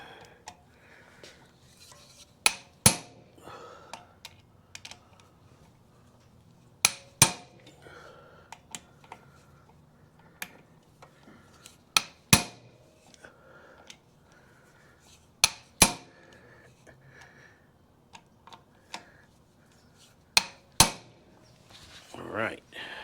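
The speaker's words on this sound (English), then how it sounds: "now I'm going to take my impact, give them a good smack, get them tightened up a little bit" Hand impact driver struck with a hammer to tighten clutch cover bolts on a 1973 ATMX motorcycle: sharp metallic smacks, often in quick pairs, ring out about every few seconds over a quiet workshop background.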